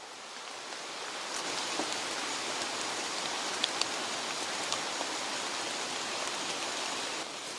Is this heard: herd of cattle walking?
no